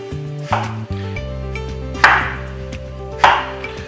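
Knife strikes a cutting board several times at an uneven pace, chopping onions, each chop a sharp thunk over a steady low hum, with no talking.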